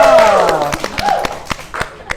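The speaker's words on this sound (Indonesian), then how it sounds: "Tepuk tangan dulu." Studio audience claps and cheers on an Indonesian television show, a burst of applause breaking out over a host's voice and then thinning into scattered claps.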